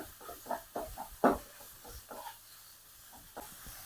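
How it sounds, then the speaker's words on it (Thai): Shiitake mushrooms and pork stir-fried together in a pan give off a hissing sizzle, broken by scraping stirring strokes that swell into a few louder bursts early on before settling into a quieter steady fry. "เราจะผัดเห็ดหอมไปพร้อมกับหมูเลยนะคะ"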